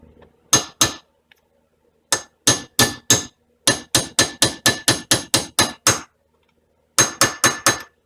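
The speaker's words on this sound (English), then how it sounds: "And then if I can find my hammer," A hammer strikes metal while Brembo rear brakes are fitted to a 2005 GTO: sharp, ringing blows in bursts, a few separate hits, then a fast run of about a dozen, then four more, all close and loud with quiet gaps.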